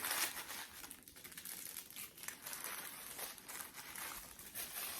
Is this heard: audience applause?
no